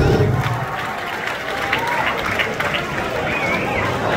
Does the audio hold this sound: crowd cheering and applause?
yes